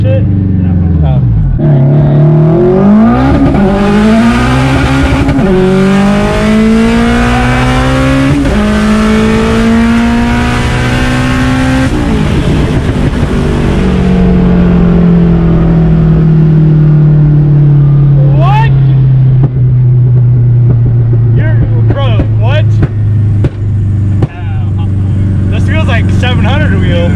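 An AWD Honda launches hard and accelerates, its engine note climbing through several gears with loud, close revving and shift breaks, filling the cabin; voices react briefly near the end.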